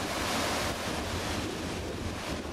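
Loud, constant roar of sea surf crashing and churning against rocks along a foamy shore, with wind buffeting the microphone throughout and no clear breaks between surges.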